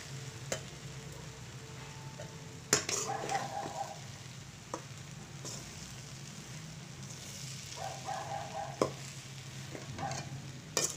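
Torn bread pieces are mixed into masala in a pan at breakfast, a spoon scraping and knocking against the pan in irregular strokes over a soft, constant sizzle, close and quiet with no voices.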